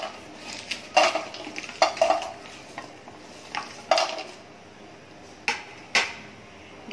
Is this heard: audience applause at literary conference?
no